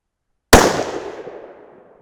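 A single sharp 6 PPC rifle shot, loaded with 68gr Bart's Ultra bullets over N133 powder, cracks loudly and close after silence, followed by a decaying echo tail of about a second and a half.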